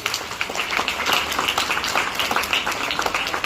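Audience applause at a school investiture ceremony as the house captains come onto the stage, a dense, steady patter of many hands clapping throughout at moderate level.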